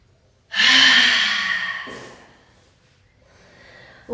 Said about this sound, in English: Using an open mouth to exhale.